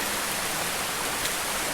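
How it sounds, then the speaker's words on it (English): A waterfall at the Subway on the Left Fork of North Creek in Zion National Park, Utah, rushes in a steady, broad hiss of falling water, constant and fairly close with no other sounds. "waterfall looks amazing."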